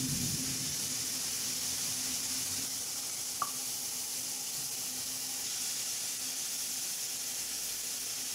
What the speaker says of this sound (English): Let's see how well it fizzes and for how long as well.